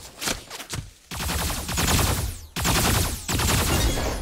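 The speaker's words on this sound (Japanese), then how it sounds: "銃声よ、気を引き締めて。" Rapid bursts of gunfire from Super Mecha Champions, loud and close, coming in sustained volleys with brief pauses between them.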